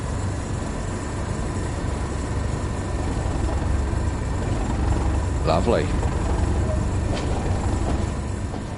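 A train in Train Sim World on the Tees Valley Line pulls away under throttle, a steady low rumble and drone rising gently, with a brief voice over it.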